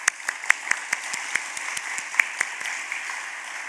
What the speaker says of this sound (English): So let's give a round of applause to all our financial ministries.